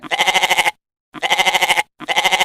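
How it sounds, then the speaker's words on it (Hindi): A pregnant goat bleats three times in quick succession, loud and close, each bleat a wavering, pulsing cry separated by short silences, with no talking. "तभी वहाँ एक गर्भवती बकरी आ जाती है।"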